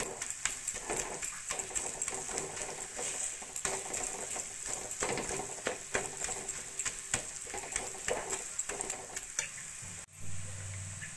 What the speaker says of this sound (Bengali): আলুগুলোকে খুন্তির সাহায্যে ম্যাশ করে নিয়েছি।